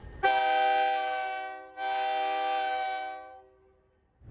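A passenger train from Utica arriving in the village of Tupper Lake sounds its horn in two long, loud blasts with a brief gap between them, the second fading out at the end.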